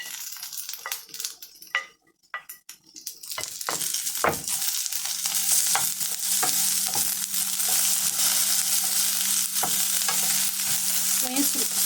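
Steady frying sizzle of chopped onions in a pan, loud and continuous, with occasional clatter of a utensil stirring; no talking.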